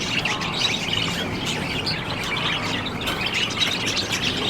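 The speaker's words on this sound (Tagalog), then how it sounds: "Alaga rin talaga yung mga ibon dito." Birds squawk and chirp continuously at a busy pet market stall in Arangke, with pigeons among the birds on sale, set against a dense, loud background of crowd noise.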